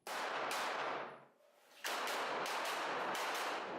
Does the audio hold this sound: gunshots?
yes